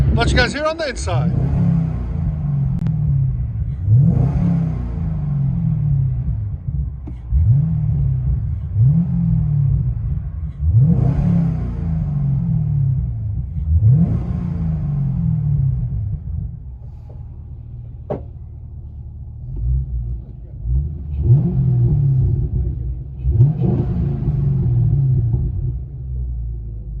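From inside a Chevy Camaro SS with its 6.2L V8 and aftermarket exhaust, a deep muffled rumble swells in repeated revs, about seven surges with a calmer idle stretch between.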